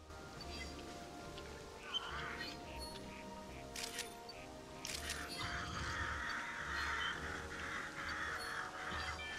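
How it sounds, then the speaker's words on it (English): Crows caw in the New Pokemon Snap video game, giving several harsh, ragged calls at moderate distance over a soft ambient background, with a camera shutter click and a brief voice mixed in. "Oh, red crows."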